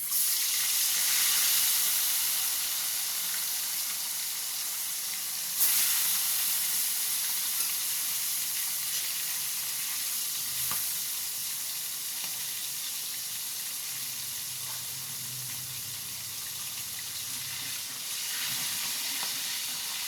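Folui fish fries in hot oil with potato and eggplant cooking, a steady close sizzle running throughout, swelling briefly when pieces are added or turned, with light clinks of utensils.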